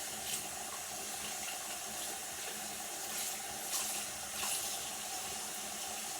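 Warm tap water runs steadily into a sink while hands are rinsed during handwashing, a continuous close splashing flow with small fluctuations and no talking.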